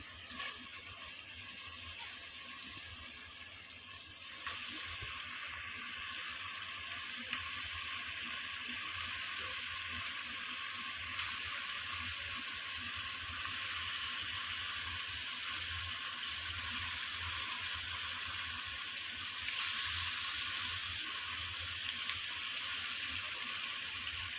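Beef tripe, two and a half kilos of large pieces, goes into a pot of spice masala that is nearly done frying, giving a steady, fairly quiet sizzle that holds evenly throughout with no talking.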